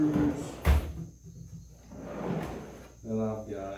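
A workshop drawer meant for large containers of screws slides and bumps shut with a sharp knock, followed by softer scraping, while someone talks nearby.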